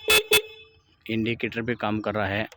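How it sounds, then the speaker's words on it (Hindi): Two short, loud honks from a vehicle's horn, checked while troubleshooting a no-start, no-reboot problem, sound in quick succession, followed by someone speaking close by. "हॉर्न भी आ रहा है"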